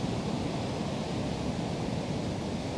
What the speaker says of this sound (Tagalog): Wala yan, alon yan pag ganyan.